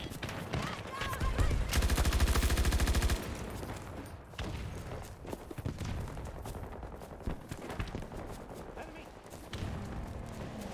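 Gunfire in the video game Battlefield 2042: a dense burst of rapid automatic fire early on, followed by scattered shots and battle noise mixed with game voices and other sounds.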